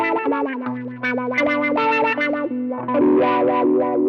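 Distorted electric guitar through a wah-wah pedal, a busy run of notes and held chords whose tone sweeps up and down as the pedal rocks, loud and alone.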